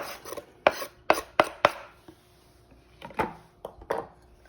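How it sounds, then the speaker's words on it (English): A knife chops egg potato salad ingredients finer on a board, giving crisp, close thumps in two uneven bursts with quiet gaps between them and no talking. "you can just go ahead and chop this a little finer"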